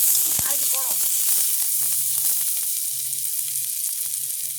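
Steady oily sizzle and crackle of onion and spices frying in a pan, continuous throughout, with a brief voice and a few clinks near the start.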